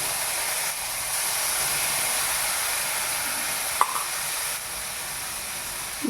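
Spice paste hits a hot pan of oil for a tengra fish oil curry, giving a steady, even hiss that runs throughout with a brief clink partway in.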